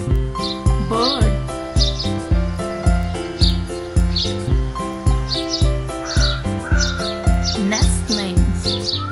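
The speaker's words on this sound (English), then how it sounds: "Bird." Short bird chirps and tweets repeat in quick bursts over a loud, rhythmic children's song backing, the calls bright but partly buried in the music.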